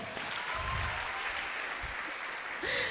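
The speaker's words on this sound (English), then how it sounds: "A round of applause." Audience applause at a women and girls in cyber event in Lilongwe, a steady wash of clapping that swells slightly toward the end, with a brief voice near the close.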